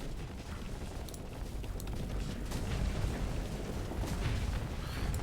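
A spaceship's cannons fire in the space combat game Starsector, a dense, rumbling stream of booming shots and mechanical clatter that builds gradually and carries on without pause.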